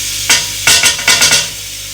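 Half a teaspoon of freshly ground garlic goes into three to four tablespoons of hot olive oil, giving several close, loud bursts of sizzling and stirring in quick succession with a steady hiss between them.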